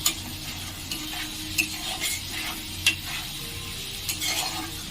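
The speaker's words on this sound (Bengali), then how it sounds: "এর সাথে আমি টমেটোটা দিয়ে দিলাম। এইভাবে এটা আমি টমেটোটা ভালো করে এর সঙ্গে কষিয়ে নেব" Tomato frying and being stirred for ghugni gives a steady low sizzle from the pan, broken by regular scraping stirs and light spoon taps against the pot, heard close with no voices.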